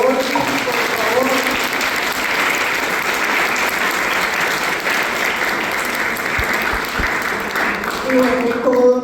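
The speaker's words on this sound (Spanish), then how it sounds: "quiero pedirles un aplauso para Leila y para Dorris, por favor" Steady applause from an audience fills the whole stretch, dense and sustained, with a few voices rising through it near the end.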